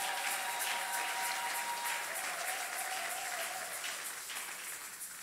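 Sustained applause from a large church congregation, steady and dense throughout, with a faint tonal note running underneath in the first seconds.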